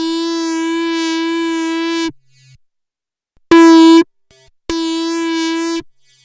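A synthesized electric guitar patch made in the Serum software synth plays a long sustained bright note, a short stab, then another long held tone, with silent gaps between them.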